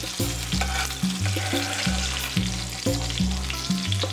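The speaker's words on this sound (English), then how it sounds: "So you don't have to fry it too much, just a little bit of crispy coating" Hilsa fish frying in oil until lightly crisp, a bright continuous sizzle running underneath rhythmic background music.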